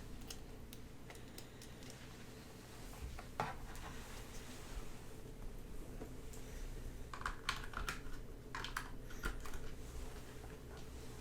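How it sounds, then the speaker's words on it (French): Light, intermittent tapping on the keyboard of a homemade cyberdeck while logging in, quiet, close keystrokes in short bursts over a steady low background hum, with no one speaking. "Donc j'ai gardé le clavier. Comme ça, on va pouvoir se loguer."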